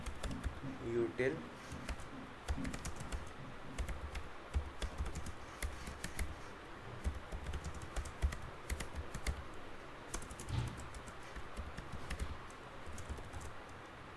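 Code is typed on a computer keyboard in quick irregular bursts of close, crisp key clicks, running under a man explaining as he writes.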